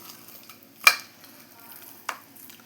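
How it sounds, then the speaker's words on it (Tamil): Mutton pieces being stirred and fried with masala in a pan, with two sharp scraping stirs standing out over a low, steady sizzle. "இப்படி பரட்டி இந்த கறியை நல்லா பரட்டி இதில் மசாலாலாம் ஆட் பண்ணி"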